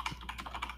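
Quick, light keystrokes patter on a computer keyboard in a short, uneven burst of clicks, close and fairly quiet, with no talking.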